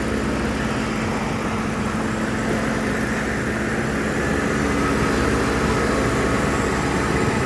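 A dual overhead cam aluminum V8 with a cold air intake idles in a steady, loud, low rumble, close by and unbroken throughout.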